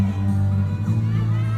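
A crowd of Cebuano supporters shouting and cheering for Duterte, a dense roar of voices that holds steady and close without pause.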